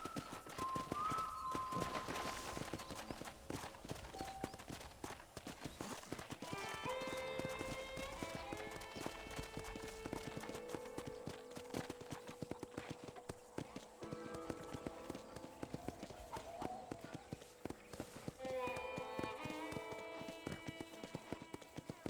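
Hooves clip-clop at a steady walking pace under continuous music in Red Dead Redemption, with a whinny near the start.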